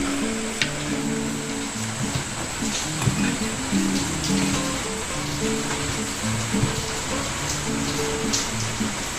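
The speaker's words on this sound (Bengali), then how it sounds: "সারাদিন বৃষ্টি হবে না কি গো?" Steady rain falls throughout, a dense continuous patter with scattered louder drops, alongside a repeating low tonal pattern that may be faint background music or voices.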